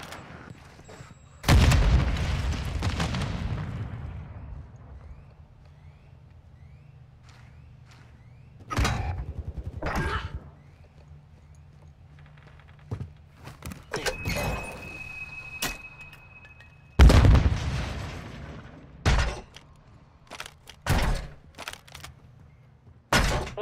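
In a Modern Warfare II Search and Destroy match, a demolition charge goes off with two loud booms that trail off in long rumbling tails, separated by sparse sharp shots and thuds over quiet background.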